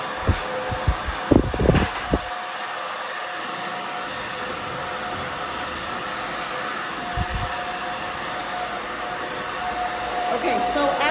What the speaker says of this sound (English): dry enough to make it easy to blow dry